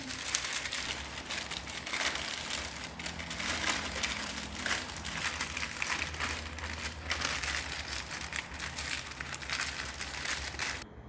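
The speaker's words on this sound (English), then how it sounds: "What we do here is we are gonna make sure we fold the sides of it. Keep folding." Cooking paper is folded and crinkled around a salmon fillet, producing a dense, continuous close-up rustling and crackling that runs throughout with no pauses or talking.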